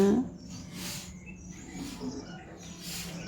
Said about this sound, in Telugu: ఎర్లీ మార్నింగ్ లేవగానే ఆ సౌండ్స్ బాగుంటాయి కదా, బర్డ్స్ చేస్తూ ఉంటాయి